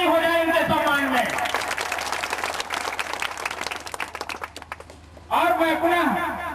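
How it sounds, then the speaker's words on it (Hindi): A crowd at a community gathering in Sitamarhi applauds a woman being garlanded, several seconds of dense, steady clapping framed by someone speaking over a public address system before and after. "एक बार जोरदार ताली हो जाए इनके सम्मान में"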